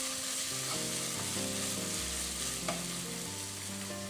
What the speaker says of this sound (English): We'll cook this until the raw smell of the ginger, the garlic and the green chilli goes off.